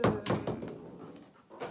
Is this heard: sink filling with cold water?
no